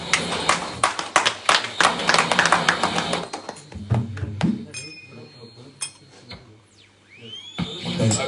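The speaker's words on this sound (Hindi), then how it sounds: "उन्हें हमें जोर ताली से धन्यवाद" An audience at a Ram Katha gathering breaks into brisk, dense applause that thins out and fades to scattered claps and clinks, with talk and stray sounds following.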